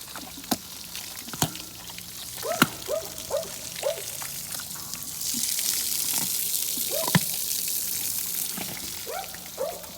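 Water pours and splashes over a horse being washed down at a rescue sanctuary, a steady gushing stream broken by scattered knocks and faint bird chirps.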